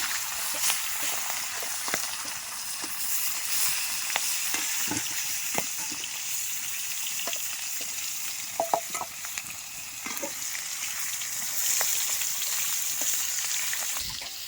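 Rohu fish frying in hot oil in a pan, a steady loud sizzle with scattered pops and crackles throughout, no talking.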